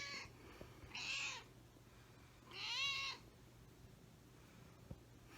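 A pet cat meows twice indoors, each meow soft and drawn out, with a quiet pause between them.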